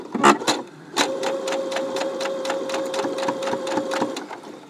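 A sewing machine stitches a quilted key fob at medium speed, its needle clattering in a rapid, even rhythm close up after a brief start and stop.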